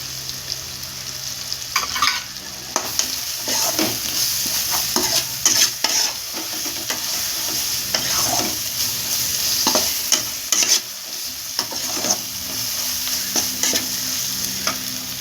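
Turmeric powder being stirred into frying chicken curry masala, a steady sizzle with repeated scraping strokes of a spoon against the pan, close and continuous.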